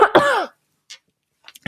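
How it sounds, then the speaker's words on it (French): A single close cough, followed by a few faint clicks and small mouth noises in near silence. "Attendez, je tousse."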